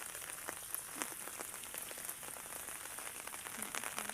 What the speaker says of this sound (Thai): ตกฝนตกพี่น้องฝนตกแล้ว